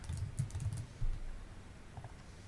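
Keystrokes on a computer keyboard as a password is entered during Tenda A33 repeater setup, a quick cluster of soft taps followed by a few scattered presses, fairly faint and close with no voices.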